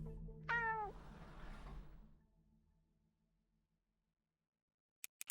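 A cat gives one clear, close meow early on, followed by fading rustle and near silence, then a few faint clicks at the end.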